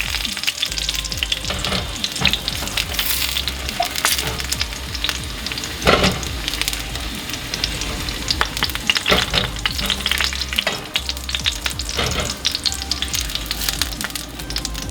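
Potatoes fry in a pan with a steady, close sizzle and occasional stirring or scraping sounds throughout, no one speaking.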